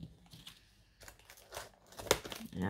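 A small piece of sticky tape is peeled and torn off a cardboard parcel, producing faint crinkling and a short sharp rip close by, with quiet handling noises around it.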